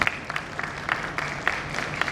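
Applause from a conference audience after a keynote at DDX Asia 2025, a dense patter of clapping that stays steady and fairly close throughout.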